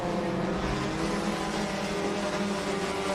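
Race cars in the Enduro main event at Irwindale Speedway on a Saturday night roar steadily together, a loud, continuous engine drone with no break across the whole stretch.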